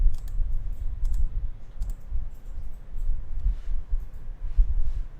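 A few faint mouse clicks on a computer while saving and closing a file in Excel, soft isolated clicks over a quiet low hum, with no talking.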